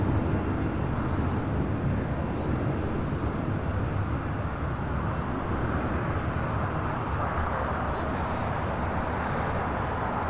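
A JetBlue Airbus A321 rolls down the runway at LAX, a steady, loud broadband roar of jet engines that holds throughout, with faint higher whine details over the rumble.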